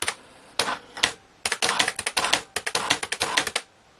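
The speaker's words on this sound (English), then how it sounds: "So you can actually type on this paper just using the head." A Brother EP-20 electronic typewriter types onto thermal fax paper with no ribbon, giving bursts of sharp, rapid close-up clacks in uneven groups separated by short pauses, loud and alone.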